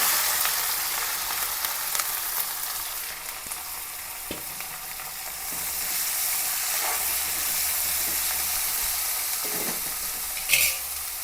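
Sliced onion and tomato fry in hot oil for duck curry, a continuous close crackling sizzle with soft intermittent stirring scrapes and one sharper clack near the end.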